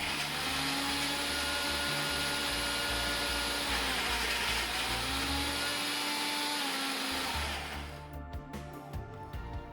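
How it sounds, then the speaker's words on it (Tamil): A blender grinds almonds into almond butter at high speed, a loud continuous motor whine with shifting pitch that runs steadily before dropping off and stuttering near the end as the thick paste clogs. "இனி ஸ்பீட்டை கூட்டி அரைச்செடுக்கணும்."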